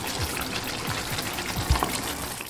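Chicken gravy with tomato paste in a pan, a steady bubbling sizzle with soft spattering and a few louder pops, close and continuous without talk.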